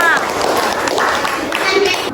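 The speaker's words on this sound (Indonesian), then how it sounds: "tepuk tangan untuk kelompok 5" A sixth-grade elementary school class gives a short round of applause for group 5, a dense wash of many hands clapping at once, steady and fairly loud throughout with voices mixed in.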